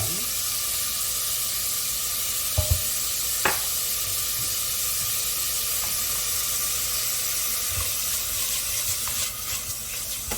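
Beef frying in a pot for Korean seaweed soup, a steady close hissing sizzle that runs throughout, with a few sharp knocks of a utensil against the pot.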